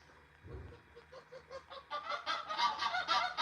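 Geese honk in a rising chorus of repeated calls near a nesting goose, growing louder and more crowded toward the end, no talking.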